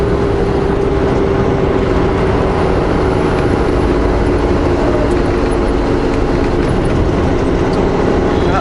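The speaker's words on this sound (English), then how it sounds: "There's a train on the north side and the south side." A train rolls past near a snowy Alberta highway, a steady loud rumble with faint clickety-clack that holds level for several seconds under road and vehicle noise, with no voices.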